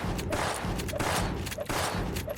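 Rapid gunfire from the online shooter Gunz The Duel, with repeated sharp shots and reload-slash sounds coming in quick bursts, loud and dense throughout, with no talking.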